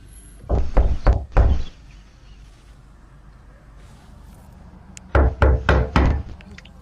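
A fist pounds hard on a house door in two loud bursts of four heavy knocks each, very close, separated by a few quiet seconds.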